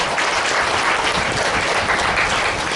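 Dense, steady applause from an audience at a staged program of short plays, clapping for the women performers. The clapping stays loud and continuous throughout.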